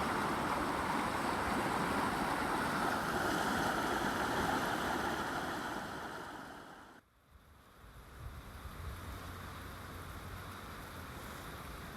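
Water rushing over a weir beneath a narrow bridge in a deer park, a loud, broad continuous roar that drops abruptly midway and continues as a softer, steady wash.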